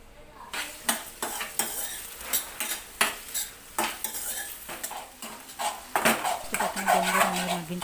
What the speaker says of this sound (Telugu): దీంట్లో పచ్చిమిర్చి ఉల్లిపాయ ముక్కలు కూడా వేసుకొని దోరగా ఫ్రై చేసుకోవాలి